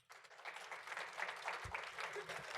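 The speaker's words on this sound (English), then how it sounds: "Let's give them all a round of applause for those beautiful skits" Applause from a board of education meeting audience after student skits, a faint, steady wash of distant clapping throughout with a low thump partway through.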